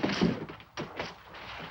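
A 1960s film scene with a door shutting and locking, heard as a few dull wooden thunks and taps in quick succession, moderately close, with no one speaking.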